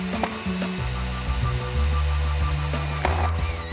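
A power drill bores a decompression hole into an aluminium window frame, a close, loud whirring hum that shifts pitch in stages as the bit works through the metal, with no speech.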